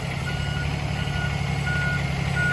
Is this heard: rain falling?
no